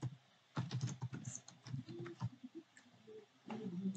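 Keystrokes on a computer keyboard while an address is typed into an online university admission form, coming in irregular bursts of quiet clicks with short pauses between runs.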